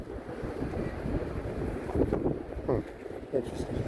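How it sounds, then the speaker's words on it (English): Strong wind gusts on the beach by Santa Monica Pier roar and buffet the microphone, with a constant low rumble and faint surf underneath. "These people are braving the wind."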